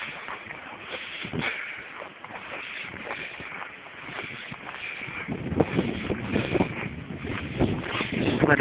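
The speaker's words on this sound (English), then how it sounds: "Another wind." Gusting wind roars across the microphone on a walk through a blizzard, a steady broadband rush that swells louder and harsher in the second half, with no voices.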